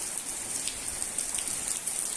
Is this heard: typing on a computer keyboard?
no